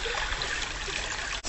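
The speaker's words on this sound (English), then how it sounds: "this is the Japanese Great River." Icy river water flows steadily in a broad, continuous rush, a dense wash of trickling and streaming close by with no voices, briefly dipping near the end.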